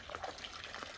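Soft, steady rush of falling water, faint and continuous, with light splashing detail throughout.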